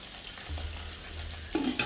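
Beans and a sautéed garlic-onion mix fry in a pan, a continuous close sizzle with a few louder stirring scrapes toward the end, no speech.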